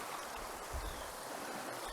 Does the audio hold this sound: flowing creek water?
yes